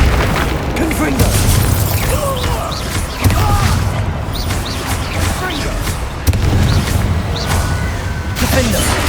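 Repeated heavy booms of Confringo blasting spells in Hogwarts Legacy, played on PS5, thudding loudly and close over constant crackling combat noise, with sharp hits near the three- and six-second marks and spell calls spoken throughout.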